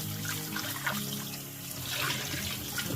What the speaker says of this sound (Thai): ก็ล้างน้ำเปล่า สักสองรอบนะคะแม่กบจะล้างสองรอบแบบเนี้ย